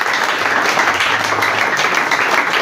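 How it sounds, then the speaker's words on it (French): A church congregation applauds and cheers in acclaim of Jesus, a dense, steady wash of clapping and voices that holds loudly and evenly throughout. "est-ce que tu peux acclamer très fort Jésus?"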